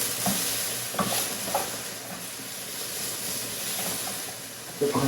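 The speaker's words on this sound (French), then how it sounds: "pour fouiller mon fenouil." Fennel being stirred with a spatula on a hot plancha, giving a constant close sizzle and hiss with occasional light scrapes and clicks of the utensil.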